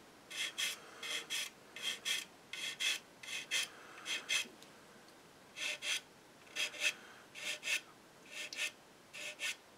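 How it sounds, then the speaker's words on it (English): Sanding back small blobs of sprue residue on a plastic Eduard Spitfire model kit with a rough sander: close, dry rasping strokes in short regular bursts of about a third of a second, repeated steadily with brief gaps and no talking. "Using a relatively rough sander to get rid of the majority of what needs to be sanded off."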